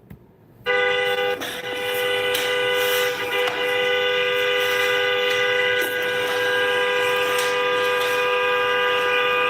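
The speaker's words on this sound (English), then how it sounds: "That is her honking their horn" Vehicle horn blaring at a street protest, one long, loud, sustained multi-tone blast starting abruptly and holding for many seconds, close by, over faint background noise.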